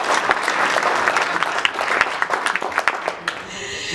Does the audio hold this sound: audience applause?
yes